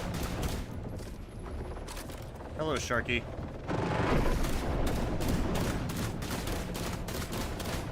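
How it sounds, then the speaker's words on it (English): Gunfire in the video game The Last Caretaker, rapid bursts of loud shots spread through the clip under a man's brief spoken greeting, with busy game noise throughout. "they've very obviously upgraded the gunshot sounds"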